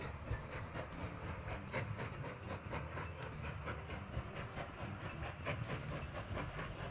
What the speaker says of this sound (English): Oh, that's the coal train.